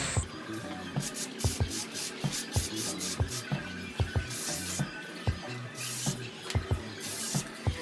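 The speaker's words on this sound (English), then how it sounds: "So yeah, let's go ahead and lube the chain." Chain lube sprays onto a motorcycle chain on a center or paddock stand in short bursts, mixed with clicks and light taps as the chain turns. The sound is close and fairly quiet, with no talking.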